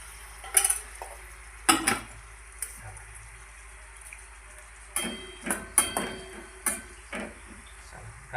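Onion browning in a pan for egg bhurji, with the spoon scraping and clinking against the pan in repeated bursts over a faint, steady sizzle in a home kitchen.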